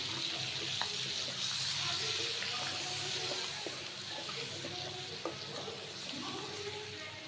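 Shrimp and egg fry in a pan for noodles, a steady close sizzle with scattered pops and crackles running throughout.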